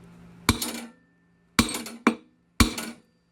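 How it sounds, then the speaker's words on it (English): Four sharp metallic hammer taps on a lawnmower crankshaft while removing the flywheel, spaced unevenly and close by, each ringing briefly before fading. "I'm going to give it a couple taps with the hammer"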